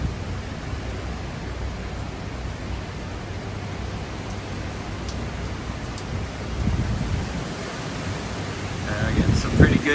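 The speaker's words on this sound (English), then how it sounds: "Getting some pretty good gusts." Hurricane Milton wind gusts and rain roar outdoors, a broad steady rushing wash that swells into stronger gusts near the end, loud and continuous, with no speech.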